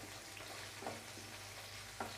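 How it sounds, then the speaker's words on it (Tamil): Quiet, steady sizzling of onions frying in a pan, with a couple of faint clinks of stirring. "ஸோ வெங்காயம் கொஞ்சம் நல்லா பொன்னிறமாக வரட்டும்."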